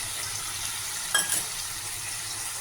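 Rui fish curry with spice paste and water simmers in a pan with a soft, steady bubbling sizzle, broken once by a brief metallic scrape and clink of the stirring spoon against the pot.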